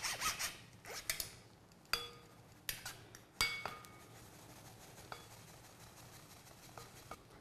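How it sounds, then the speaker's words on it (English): A vegan brownie mixture of cocoa powder and sugar is sifted through a metal sieve, with quiet, uneven rasping, rubbing and tapping against the mesh and bowl, close up and without speech. "So all I'm going to do now is just mix everything up and sift it in."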